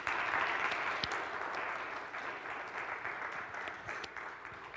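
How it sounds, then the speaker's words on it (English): Steady applause from a crowd, many hands clapping continuously at moderate volume for several seconds with no talking. "They deserve a round of applause."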